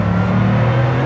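A car's engine roars loudly and steadily under hard throttle, heard close up in a short, sustained burst of acceleration with no talk over it.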